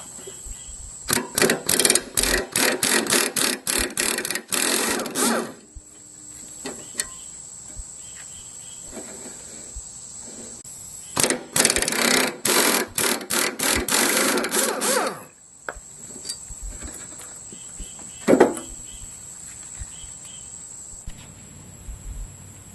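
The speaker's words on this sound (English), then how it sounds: "First, I'm going to remove the mower blade. You'll need a 15mm socket for this. I'll use an impact gun." An impact gun works a bolt on a John Deere mower blade, firing in two long rapid hammering bursts separated by quiet, with a few short clanks of tools between them.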